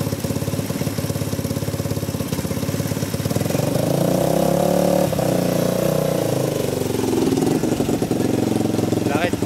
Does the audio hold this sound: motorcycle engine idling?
yes